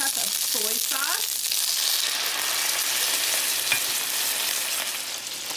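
Fresh shishito peppers fry with soy sauce in a pan, a loud, steady sizzle and crackle that runs throughout, with a brief voice at the start.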